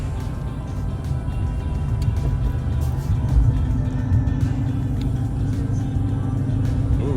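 Car rolling along a road with a low, steady engine rumble and tyre noise throughout, moderately loud and close, with a brief swell in the middle.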